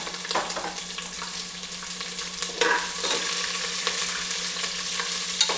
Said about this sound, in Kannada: ಈರುಳ್ಳಿ ಕೂಡ ಹಾಕಿ ಒಂದು ಮಿಕ್ಸ್ ಕೊಡ್ತಾ ಇದ್ದೀನಿ ನಾನು ಇವಾಗ